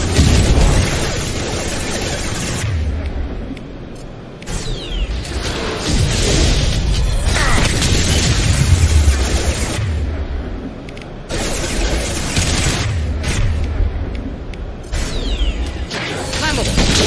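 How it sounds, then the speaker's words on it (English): A concussive shot fired in Mass Effect 2, bursting into heavy booming blasts and crashes amid ongoing combat noise, with loud impacts recurring over about seventeen seconds and a voice calling out among them. "Firing concussive shot!"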